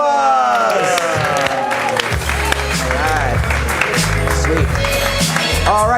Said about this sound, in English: All right, that's your cast. Give them a round of applause.